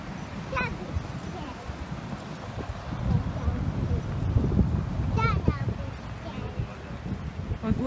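Horses clip-clop along a windy seaside with surfers nearby, hoofbeats faint and intermittent under gusting wind noise and someone talking.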